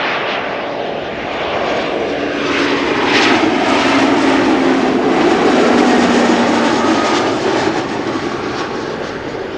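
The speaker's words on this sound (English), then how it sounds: "Cityhopper arriving from Teesside or Darlington, flying for KLM as flight" A KLM Cityhopper airliner arrives at Amsterdam Schiphol on a sunny day. The jet engines give a loud, sustained roar that swells as the aircraft passes close by, then eases slightly.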